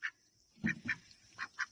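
Two ducks at a pond planted with water lilies give a handful of short, bright quacks, one alone and then two quick pairs, close and moderately loud with quiet gaps between.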